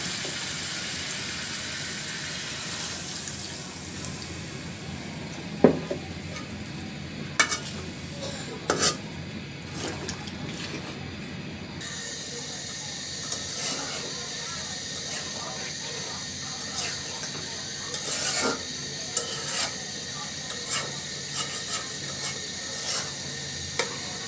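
Chicken meat fries in a pan, a soft continuous sizzle broken by scattered sharp clinks and scrapes of a utensil stirring it, fairly close and moderately quiet.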